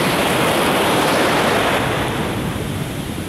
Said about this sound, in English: And these waves are just so gentle and beautiful.